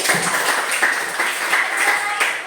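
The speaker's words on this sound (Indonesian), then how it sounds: "Baik, tepuk tangan untuk kawan kita." A fifth-grade class in a Christian religious education lesson applauds a classmate, giving a dense, steady patter of many hands clapping together with faint voices mixed in.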